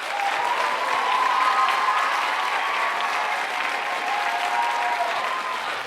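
At a Write Club debate during Writers Week, an audience applauds to vote for a winner: a sustained, moderately loud wash of clapping with a faint steady tone running underneath.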